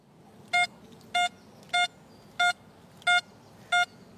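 XP Deus metal detector at reactivity 0 giving six evenly spaced, clear electronic target beeps about every 0.6 seconds, each sustained tone standing out alone over faint background hiss.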